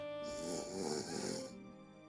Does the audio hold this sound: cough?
no